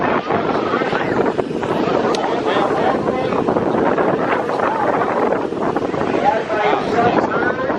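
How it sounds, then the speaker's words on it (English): Strong wind buffets the microphone at the Santa Monica pier on a busy holiday weekend, a constant low roaring rush with gusty swells and faint crowd noise mixed in. "Windy out here."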